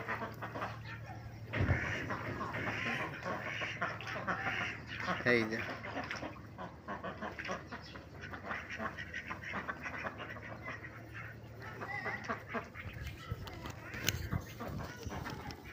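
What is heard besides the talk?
farm ducks quacking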